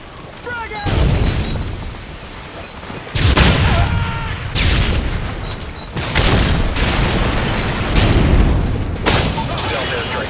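Heavy booming blasts from a grenade explosion in the Modern Warfare 3 video game, with repeated loud detonations and gunfire-like bursts in quick succession, while game voices call out over the chaos.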